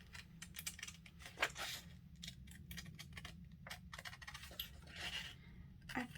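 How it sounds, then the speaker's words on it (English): Paper printables are cut out with scissors, giving quiet, close snips and crisp paper rustles in an uneven rhythm over a low background hum, with no speech. "I'll just be quiet while I cut this out"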